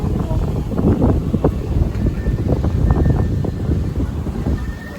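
Steady, loud wind buffeting the microphone throughout, a continuous rumbling roar with gusty fluctuations and no clear talking.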